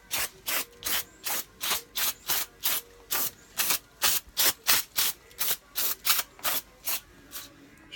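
Rhythmic, close scrubbing strokes, roughly two per second, as Honda GX390 engine parts for a 460 stroker build are cleaned with brake cleaner before final assembly.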